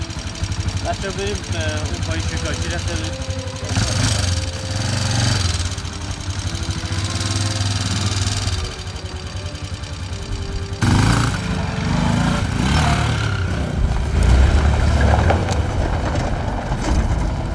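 A motorcycle of an anti-poaching patrol crossing the open steppe, its engine running as a steady, loud drone throughout, with a voice talking over it.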